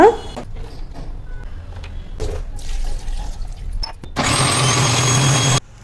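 A mixer grinder whirs loudly, grinding coconut pieces for coconut milk in a short, steady burst near the end, after quieter clinks and a voice speaking.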